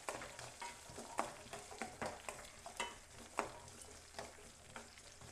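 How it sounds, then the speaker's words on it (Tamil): Onions fry in hot oil with mustard seeds and urad dal, a soft continuous sizzle broken by repeated sharp scraping clicks from stirring, close and fairly quiet, with no voices. "வெங்காயம் சேர்த்துடலாம். சேர்த்து நல்லா ஃப்ரை பண்ணிக்கோங்க."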